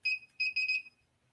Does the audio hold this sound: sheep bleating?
no